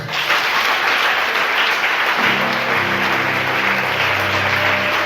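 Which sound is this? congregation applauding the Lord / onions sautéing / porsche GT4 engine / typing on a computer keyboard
congregation applauding the Lord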